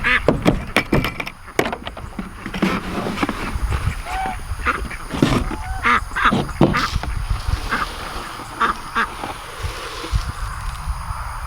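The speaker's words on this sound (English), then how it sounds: "We got to go give the ducks and geese water, food, and we got to move them." Farm ducks and geese being moved quack and honk in a busy, overlapping chorus, close by and continuous, with scattered louder calls and rustling.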